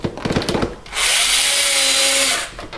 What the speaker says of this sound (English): just drive your sheet metal screw in, and that way you attach it